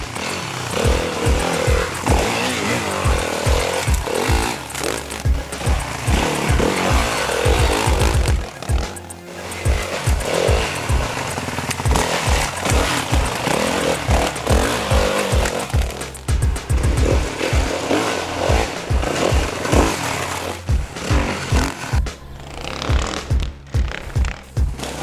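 A 2013 Yamaha WR450F dirt bike ridden through Maramura Forest, its engine buzzing loudly and rising and falling with throttle blips and gear changes over the whole ride.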